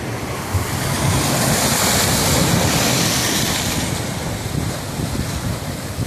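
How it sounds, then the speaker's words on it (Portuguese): Choppy sea waves roll in at Ponta da Praia in Santos, a steady, dense roar of surf with wind rumbling across the microphone, continuous and loud throughout, no voices. "vou deixar vocês com o som do mar aqui na Ponta da Praia, em Santos"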